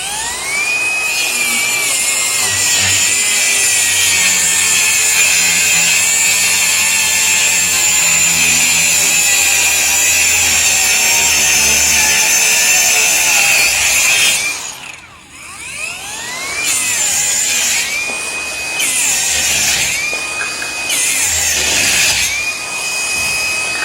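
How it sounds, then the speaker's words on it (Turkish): Circular saw cutting plywood, loud and continuous with a steady high whine for about fourteen seconds, a brief dip, then a few shorter cuts with the motor spinning down and back up between them, no talking. "Üstündeki daire testere de yine bizim yanında gönderdiğimiz daire testere."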